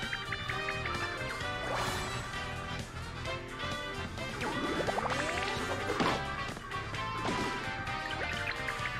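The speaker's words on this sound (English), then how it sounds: "You smashed all four Goombas with a single swing" Mario's hammer swings down on a group of Goombas in the video game Paper Mario: The Origami King, with a few sharp smashing impacts that ring out over busy, continuous game music.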